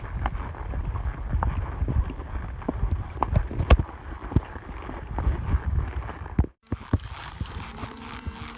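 Horse hooves clip-clopping in a steady quick rhythm while riding hard to chase cattle on a ranch drive, with wind buffeting the microphone, a brief dropout near the end, then clatter resuming.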